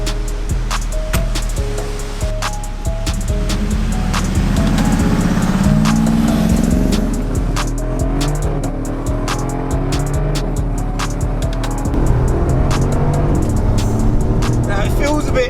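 Mercedes G63 AMG V8 engine rumbling steadily at low pitch while the heavy boxy SUV is driven, with road and wind noise throughout and a person talking over it.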